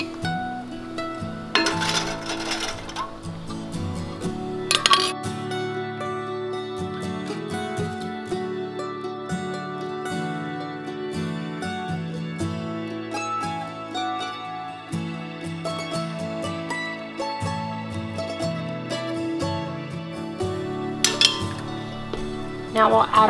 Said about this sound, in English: Now we're going to add our lids.